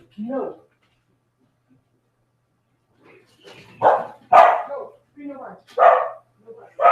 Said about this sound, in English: or if you hear dogs barking when my husband comes in because they're nuts